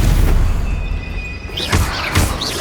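A loud, roaring fire-spell blast in Hogwarts Legacy fills the moment with dense, sustained rumbling, and a couple of brighter bursts and crackles swell near the end.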